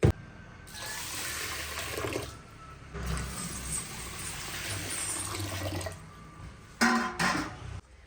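Soaked dal and rice are rinsed with running water outdoors, with a steady rush of pouring, splashing water that breaks off briefly and resumes, ending in a few louder sloshes.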